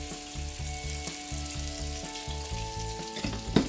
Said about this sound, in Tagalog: First, we have to put our 1 tablespoon of butter and 1 tablespoon of olive oil.